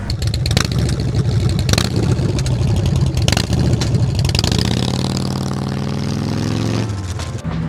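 A BMW R18 Bagger motorcycle engine runs steadily at a gas station, a loud close low rumble throughout, with a rising, smoother tone in the second half suggesting a rev or another vehicle passing.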